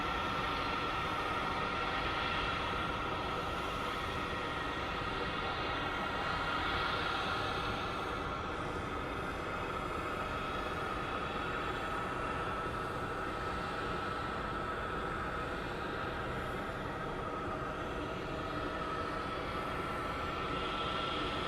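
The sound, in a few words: aircraft APU (auxiliary power unit) running at airport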